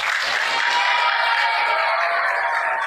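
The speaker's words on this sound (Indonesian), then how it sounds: "Tepuk tangan untuk Bali" Applause from a seminar audience welcoming a seventh-grade student from Bali, a dense, steady wash of clapping at moderate loudness lasting the full stretch, with faint voices mixed in.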